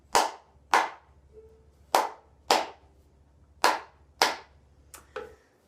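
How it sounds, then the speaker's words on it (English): Children clap their hands in a slow, uneven rhythm, about eight sharp claps falling roughly in pairs, close and clear against a quiet room. "Can you clap your hands with me?"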